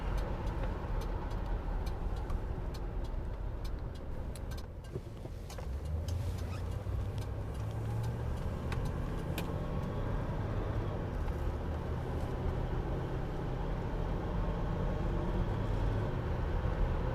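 A 1971 Mercury Marquis Brougham sedan with a 429 two-barrel V8 cruises at 50 mph, heard from inside as a steady, low rumble of engine and road noise that stays even throughout.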